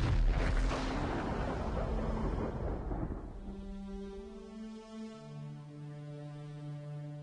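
A supernova explosion sound effect: a deep, loud thunder-like rumble that rolls and fades over several seconds, then gives way to sustained low droning tones.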